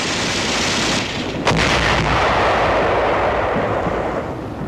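Heavy gunfire and artillery roar on a 1945 wartime island battlefield as tanks advance, a loud continuous rumble with a sharp blast near the middle, alone without voices.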